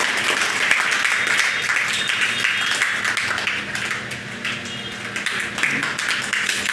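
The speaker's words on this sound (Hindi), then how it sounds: "नीरज सर के लिए जोरदार तालियां बजाइए" Applause for a teacher at a coaching institute in Karauli, Rajasthan, many hands clapping in a dense, continuous wash at moderate loudness, holding steady throughout with no speech.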